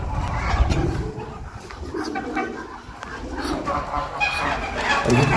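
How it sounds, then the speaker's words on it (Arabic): Geese honk amid a steady background of farmyard noise, their calls blending with ducks, pigeons and other birds in a loud, crowded pen. "لا هنا عاد بط ووز وحمام."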